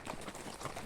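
Horse hooves clip-clopping steadily as a rider moves along a wooded trail in Matheran, Maharashtra, a brief, moderately close patter with faint background noise.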